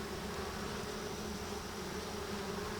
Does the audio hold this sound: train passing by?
no